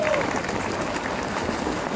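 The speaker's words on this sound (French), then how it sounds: "je vous propose de les applaudir bien fort avant la fin de ce match" Audience applause at a national beach volleyball finals tournament in Erquy, a steady dense clapping from a crowd throughout, moderately loud with a faint voice briefly over it.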